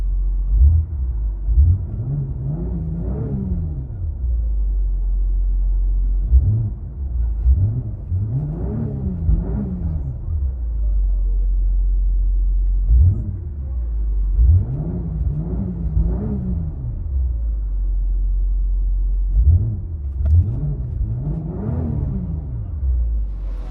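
Heard from inside the cabin, a 2025 BMW X5 xDrive50e with a 3.0-litre inline-six hybrid and a Flowmaster 80 Series exhaust revs repeatedly. Four separate deep, rising and falling rumbles sit over a steady low idle drone.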